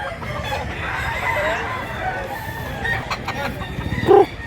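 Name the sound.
rooster crowing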